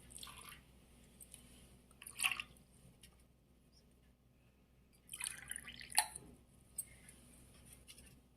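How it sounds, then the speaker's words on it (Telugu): Turmeric water drips during a ritual abhishekam: faint, sparse splashes and trickles come in two short clusters separated by quiet, recorded close but at low volume. "పసుపు నీళ్ళతోటి అభిషేకం చేసుకున్నాం"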